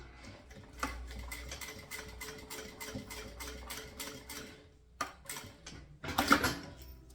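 A sewing machine stitches a finishing seam on a synthetic crossbody bag, a rapid mechanical ticking in short bursts with brief pauses between runs and a louder clatter near the end.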